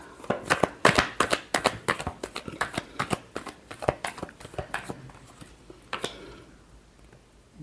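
Tarot cards are shuffled by hand in a quick series of soft, crisp riffling flaps and slaps, close up and fairly quiet, slowing to a few final taps near the end.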